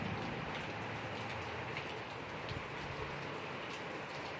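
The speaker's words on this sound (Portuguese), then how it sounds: "Olha a chuva, gente, o tanto que tá relampeando, vocês não têm ideia." Rain pours down during a thunderstorm with lightning, a dense, even patter over a faint low rumble, steady and fairly quiet throughout with no voices.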